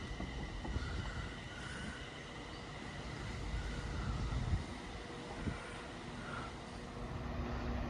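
An Avanti West Coast passenger train bound for Liverpool Lime Street from London Euston passes through Crewe station, a steady broad rumble and rail hiss that swells slightly midway and holds throughout.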